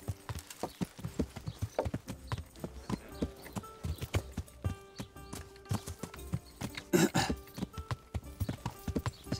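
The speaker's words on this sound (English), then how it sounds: "On the horse." Horse hooves clip-clop in a steady, quick rhythm in the video game Kingdom Come: Deliverance, close and fairly quiet, with a short whinny-like burst partway through.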